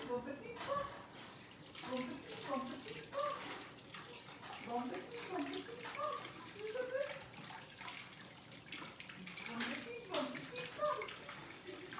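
Water runs steadily into a sink to soak dishes, a continuous rushing splash with varying gurgles, while voices talk over it.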